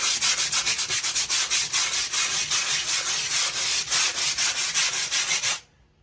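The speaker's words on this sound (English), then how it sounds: "I'm going to follow it up with the 120 sandpaper." Hand sanding of a coated kitchen countertop with 120-grit sandpaper: close, steady rhythmic scrubbing strokes repeating quickly for several seconds, then stopping abruptly, with no voices.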